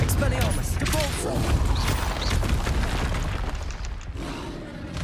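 Continuous spell blasts and booming impacts in Hogwarts Legacy combat, including the Confringo blasting spell, a dense, loud wash of explosions and rumble with a voice talking over the action.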